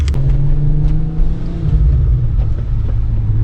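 A Volkswagen MK4 R32 on air ride suspension pulls away with a low, steady engine drone and some wind rumble, close and fairly loud, with no talk.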